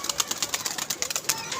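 Pigeons close by, their wings flapping in a quick, uneven series of soft claps with faint cooing, fairly quiet and with no talk over them.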